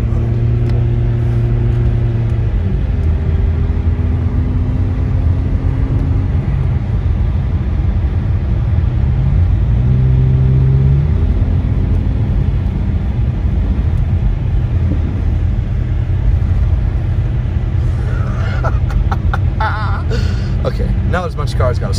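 A car engine revs and drones hard while driving through deep snow at Big Bear Lake, California, a loud, sustained mechanical rumble with shifting pitch as the throttle rises and falls, with voices talking over it.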